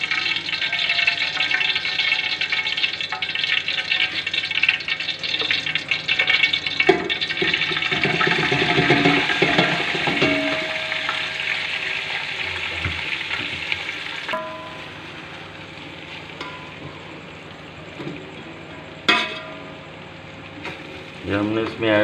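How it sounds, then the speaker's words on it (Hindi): Rice goes into a pot of hot ghee for sweet mutanjan rice, setting off a loud, dense sizzle with stirring and scraping. The frying then settles to a softer, steadier hiss with occasional clinks of a utensil. "तो अब हम इसमें ऐड करेंगे चावल।"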